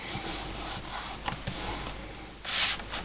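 Tape backing is peeled off a paper gift box, a faint scratchy rubbing with a couple of brief ticks and a louder rasping tear near the end, no talking.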